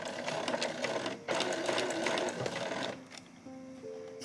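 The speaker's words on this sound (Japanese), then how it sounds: "そしたら最初の印ゴム通しのところまで縫って返し縫いします" A sewing machine stitches a fabric scrunchie in a close, continuous whirring run that pauses briefly and then resumes, ending with softer handling sounds.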